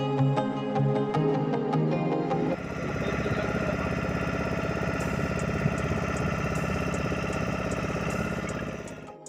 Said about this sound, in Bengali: বোটটাও চলতে শুরু করলো।